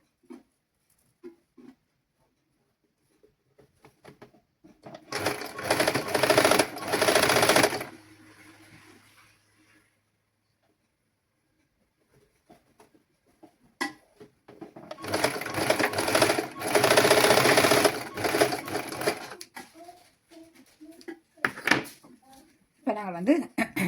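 A sewing machine stitches the shoulder seam of a frock in two rapid, loud bursts of several seconds each, separated by quiet gaps with sparse clicks of fabric handling.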